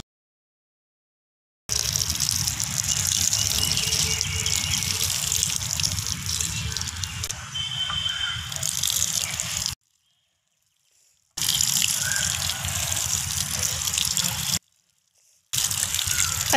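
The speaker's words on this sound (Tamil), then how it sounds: "இப்போ வந்து நம்ம தண்ணி வந்து விட்டுடலாம்" Water gushes and splashes onto the soil of a freshly seeded brinjal bed in a home garden, a steady pour that breaks off in two short silent gaps before resuming.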